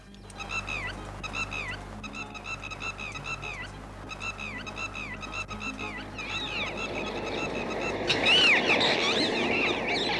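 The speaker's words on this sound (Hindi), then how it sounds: "वो चिड़िया इतनी जोर जोर से चिल्ला क्यों रही है?" A bird honks loudly again and again in rapid, rhythmic bursts, harsh and insistent against a low background hiss.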